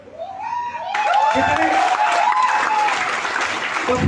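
An indoor audience bursts into loud, sustained applause, many hands clapping together in a dense roar, with a voice heard over the clapping.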